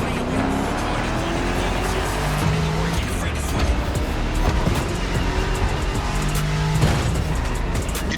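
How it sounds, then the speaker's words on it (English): Engine of a 1969 Ford Mustang Boss 429 muscle car driving in the racing game The Crew Motorfest, a loud, steady throaty roar up close with shifting revs throughout, and a voice talking over it. "You're driving my #1 car, the star of my collection, the 1969 Mustang Boss 429."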